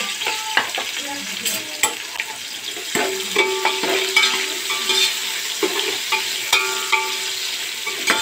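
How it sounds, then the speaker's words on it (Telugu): Finely chopped onions fry in a little oil in a pan, a steady sizzle broken by sharp spoon clinks and stirring scrapes against the vessel, close and moderately loud, with no voices. "ఇప్పుడు ఇందులో సన్నగా తరిగొచ్చిన ఉల్లిపాయలు వేసుకోవాలి."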